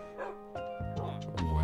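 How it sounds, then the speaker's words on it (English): Dog in the video game Minecraft giving several short yips and barks with some whining in between, nearby and clear. "Good dog, nice."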